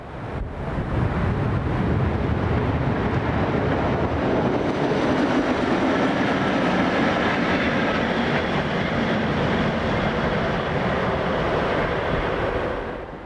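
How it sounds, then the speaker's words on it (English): An ÖBB Class 1042 electric locomotive leads a pair of Class 1044 locos away from a mountain summit, heading north: a steady, loud rolling rumble of rails with some wind buffeting, sustained throughout and fading slightly at the end. "1042-610 leads a pair of Class 1044 locos away from the summit at Brunero as they head north back to Wörgl"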